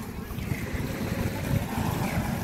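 A boat moving out from Baloy Beach in Zambales, a steady low rumble of engine and water with wind buffeting the microphone, continuous and close, with no talk.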